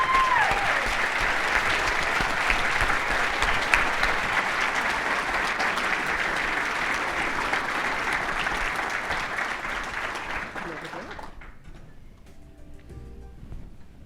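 A large audience applauds for a young scholarship recipient at an evening charity event program, the clapping steady and full for about ten seconds before tapering off into a quieter room.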